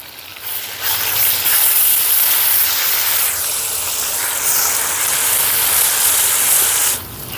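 Ginger garlic paste sizzles in hot oil in a pan, a loud continuous bright hiss with slight fluctuations as it fries, close up and without talk.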